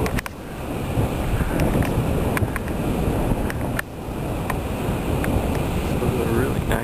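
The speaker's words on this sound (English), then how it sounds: "A little breezy up here." Strong breeze buffeting the microphone on a mountain summit at about 14,162 feet, a steady loud rushing roar with gusty low rumble and a brief dip midway.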